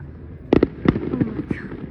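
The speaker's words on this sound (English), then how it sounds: "fireworks right now. This was crazy." Canada Day fireworks burst in a quick cluster of sharp cracks and pops, several close loud explosions followed by fainter crackles, with voices audible around them.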